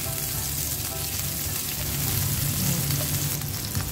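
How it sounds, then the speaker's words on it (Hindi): Thinly sliced onion sautés lightly in a pan for chicken gola kabab, a steady close sizzle and crackle running continuously at an even level. "लच्छेदार हमने प्याज काटी है एक छोटी। थोड़ा सा हम इसको सौते करते हैं"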